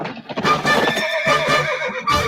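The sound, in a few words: horse neighing in a video game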